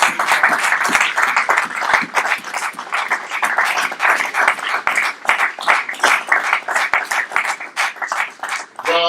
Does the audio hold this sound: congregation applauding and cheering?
yes